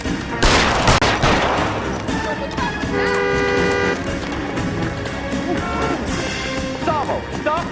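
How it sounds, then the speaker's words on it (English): Gunfire in the L.A. Noire video game, a sharp burst of shots near the start followed by scattered bangs over car and street sounds, with a voice speaking at moments. "Shoot him, for God's sake!"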